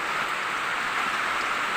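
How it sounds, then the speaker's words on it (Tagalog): Steady rain hissing without pause, a dense broadband wash with no voices or distinct drips standing out, as rain leaks into a kitchen of a nipa hut in the mountains. "may tulo yung kusina ko tumatagos yung ulan"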